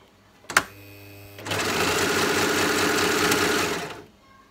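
A Brother 2504D serger sews a test seam, a sharp click and brief hum first, then a loud, steady mechanical whirr running close for about two and a half seconds before it stops.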